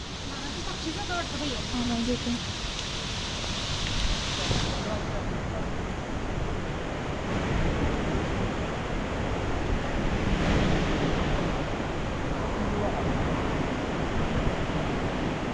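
Strong wind roars continuously in the jungle near Mudagad Fort, Kolhapur, a loud, rushing broadband noise that swells and buffets the microphone, like surf or a gale.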